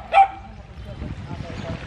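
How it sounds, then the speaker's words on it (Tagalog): A dog at a fish breeder's place gives one short, fairly distant bark, followed by low murmuring background voices. "medyo maingay yung aso."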